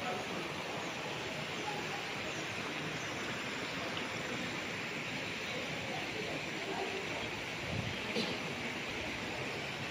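River flowing beside a resort in Liliw, Laguna, a steady broadband rush of water that holds evenly throughout at moderate level, with no clear talk over it.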